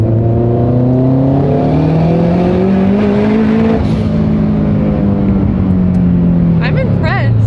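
A Subaru STI accelerating hard through the gears, a loud, close engine drone climbing steadily in pitch, heard from inside the car with voices talking over it.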